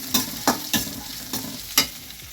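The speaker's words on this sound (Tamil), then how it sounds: "இந்த பச்சை மிளகாயும் பூண்டையும் சேர்த்து போட்டு எண்ணெயில் வதக்கிடுவேன்" Green chillies and garlic sautéing in oil for a garlic pickle, with a spoon scraping the pan in five sharp, close strokes over a steady low sizzle.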